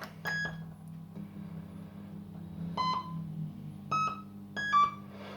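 Several short electronic beeps in quick clusters, some with a brief rising tone, from a machine's speaker imitating firecracker sounds, over a steady low mechanical hum.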